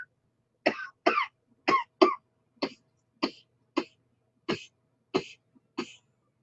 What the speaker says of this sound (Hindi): अभी जैसे मैं अभी ये कर रही हूँ और मुझे खांसी आ गई